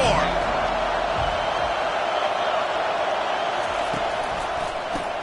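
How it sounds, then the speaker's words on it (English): A college football stadium crowd roars steadily in a loud, dense wash of noise that holds for the whole stretch. "Defense has them pinned back, and listen to this crowd roar."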